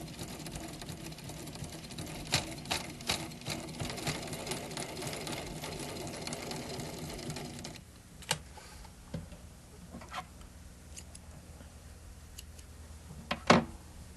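A sewing machine stitches a seam with a rapid ticking rattle for several seconds, then falls to quieter, scattered clicks and taps.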